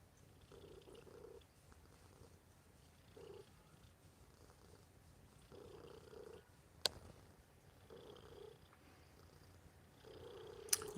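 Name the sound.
cat purring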